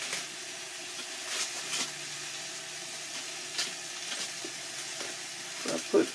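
Butter sizzles with salt and pepper inside a Ninja Foodi XL grill, a soft, steady crackle with occasional brighter pops, close and fairly quiet, no talking.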